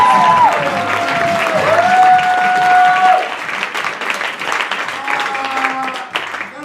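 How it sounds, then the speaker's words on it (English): Loud, close audience applause and cheering for a stage cast, dense clapping with whistles over it, easing slightly midway as voices mix in. "Please give another round of applause to this amazing cast."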